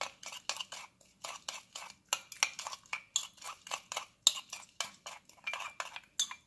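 Thick Korean meat marinade of soy sauce, sugar, sesame salt, pepper, sesame oil and minced green onion and garlic is stirred in a bowl, with steady rhythmic clinks and scrapes of a utensil against the dish, close and alone.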